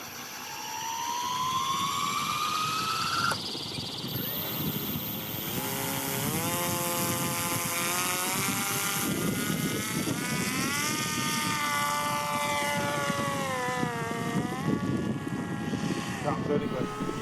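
The GyrOne, an experimental RC autogyro model, flies its maiden flight over a field with a steady high-pitched buzzing motor whine that rises and falls as the throttle changes, with continuous wind and rotor noise.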